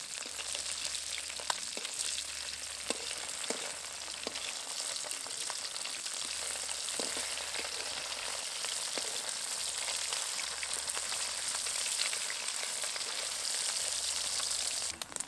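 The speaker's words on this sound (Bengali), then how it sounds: "এবার অন্য দিকটা উল্টে দিয়ে ভেজে নেব।" Parshe fish frying in mustard oil after being flipped, a steady close sizzle with crackling pops and occasional soft clinks throughout, no talking.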